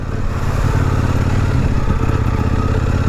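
Kove 800X Rally adventure motorcycle ridden off-road, its engine droning loud and steady at close range with a rattling, clattery texture throughout and no voices.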